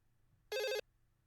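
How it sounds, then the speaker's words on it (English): A single short electronic telephone ring, brief and fairly faint, over a quiet low hum. "that phone was ringing for so long"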